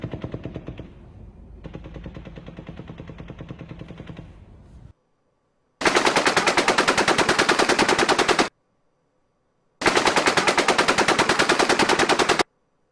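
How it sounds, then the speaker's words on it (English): An M240 belt-fed machine gun fires two long, loud bursts of rapid automatic fire during the Route 91 Las Vegas shooting. The bursts are separated by a few seconds of silence and follow a stretch of muffled noise. "What we were looking at was an M240 belt-fed machine gun"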